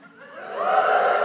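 An audience at a conversation event with Dame Tracey Emin cheers, a crowd's voices swelling from a murmur into a sustained loud cheer that holds to the end.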